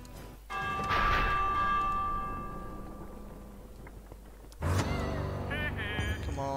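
A warning bell tolls in Minecraft Dingeons, ringing twice with bright metallic strikes and long, shimmering decays over game music and ambience.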